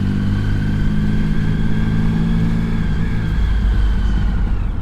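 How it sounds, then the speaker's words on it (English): A motorcycle rides through Tokyo traffic with a loud, steady engine drone that holds at an even pitch and then eases slightly toward the end, recorded from the bike itself, with no voices. "Isn't it convenient being on a motorcycle in Tokyo?"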